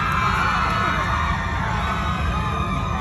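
A loud festive crowd at a barrio fiesta cheers, shouts and screams steadily and without a break, a dense wall of excited voices.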